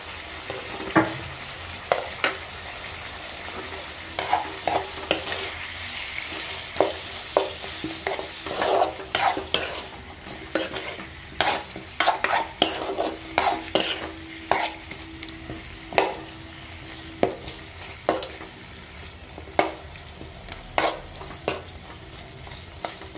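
Chicken pieces frying in oil with garam masala, a continuous sizzle broken by many irregular scraping clicks of a spoon stirring against the pan, close and fairly loud, without speech.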